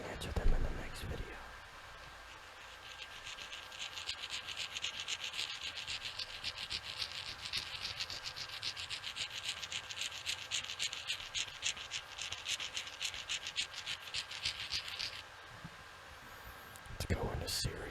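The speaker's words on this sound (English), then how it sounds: "Go into serious rock rubbing mood" Wet rocks rubbed together up close make a steady, fine gritty scraping that runs continuously for most of the stretch, quiet and intimate, with brief louder handling sounds at the start and end.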